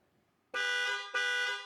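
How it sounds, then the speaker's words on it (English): A Mercedes car horn sounds in two loud, close blasts in panic-alarm mode, the first longer than the second, after a near-silent start. "When in danger, you can make a lot of noise by hitting the red panic button."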